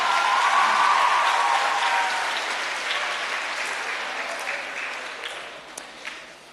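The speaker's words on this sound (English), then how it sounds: "Let's give her a big round of applause." Audience at a school farewell assembly for grade 7 gives a warm round of applause, loud and full at first, then gradually thinning and fading out over several seconds with a few last scattered claps.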